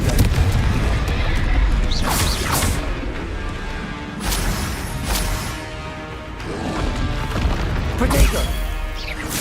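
Repeated fiery spell blasts in the Hogwarts Legacy video game, several loud booming bursts with whooshing sweeps spaced across dense game audio and music, one after another.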